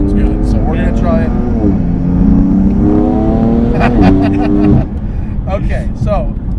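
A BMW M4 with bigger turbos and an aftermarket exhaust, set in Sport Plus mode, revs loudly up and down nearby, its engine note climbing and falling in several close, throaty sweeps before settling.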